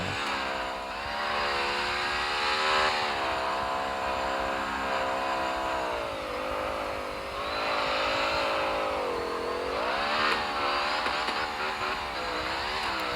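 A racing car in the CarX Street video game revs hard through repeated gear shifts, the engine tone climbing and dropping several times in a loud, continuous drone with no talking.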